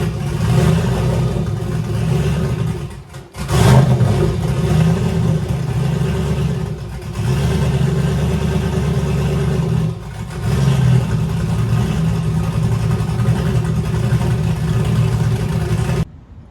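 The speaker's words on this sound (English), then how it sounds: "It is a lot choppier than stock, obviously," A 6.0-liter truck engine with an LBT cam and turbo idles loud and choppy at close range, its lumpy rhythm broken by a couple of short throttle blips, with no talking.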